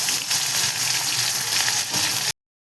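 Onion and tomato hit hot oil in a kadhai with mustard seeds and cumin, a loud, dense, steady sizzle up close that cuts off abruptly near the end, with no speech.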